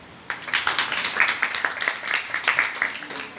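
Schoolchildren in a classroom clap together in a quick, fairly even burst that starts abruptly and carries on at moderate loudness, heard from inside the room with no talking over it.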